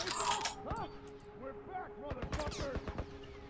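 Gunfire in The Last of Us video game comes as a cluster of sharp shots and echoing bangs, one after another, with a voice talking alongside.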